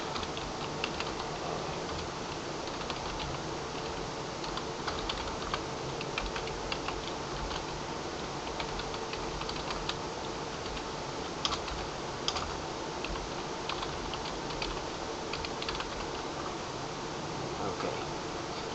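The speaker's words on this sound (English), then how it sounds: "let's type up the first command" Fingers type on a computer keyboard, with rapid, light, irregular key clicks running continuously and fairly faint against a quiet room hiss.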